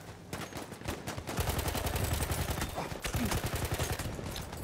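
Rapid bursts of submachine gun fire in Battlefield 1 multiplayer, sustained rattling shots with brief pauses between volleys.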